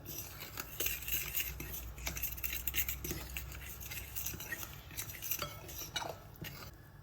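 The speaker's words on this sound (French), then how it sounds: "il faut aller assez vite pour mélanger parce que le gluten prend très rapidement" Gluten being mixed quickly into hot broth for homemade seitan, with steady scraping and clinking of a utensil against a bowl and soft wet stirring, no voices.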